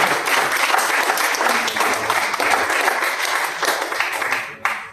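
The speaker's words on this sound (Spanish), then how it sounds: "Denle un fuerte aplauso al Señor" Church congregation gives the Lord a strong, sustained round of applause, dense steady clapping filling the room with faint voices beneath, fading near the end.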